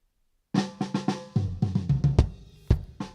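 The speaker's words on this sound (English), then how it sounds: "So this is the sound of the bass drum." A bass drum recorded with an RE320 microphone in a drum kit, heard as about a dozen dull, punchy kicks in an uneven pattern with some spill from other drums, fairly quiet and with no speech.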